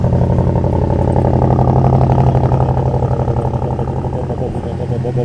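A BMW X5M engine idles loud and rough from a complete cold start, a dense steady rumble with clattery texture that eases slightly toward the end, with talk over it.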